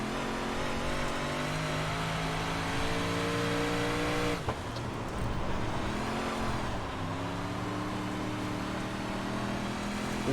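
358 modified race cars roar around the Williams Grove track in iRacing, a loud continuous engine drone with shifting pitch, briefly dipping as a gear change or lift occurs midway.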